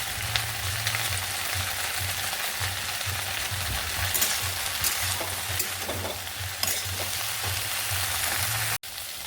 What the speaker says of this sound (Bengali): ঢেঁড়স অল্প একটু ভাজা ভাজা হয়ে গেছে